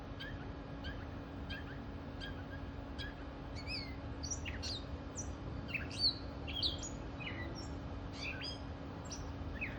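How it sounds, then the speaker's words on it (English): A bird calls outdoors in a series of high, bright chirps and tweets, fairly distant over a low steady hum and background noise, with no talking. "there's a bird who is calling about something."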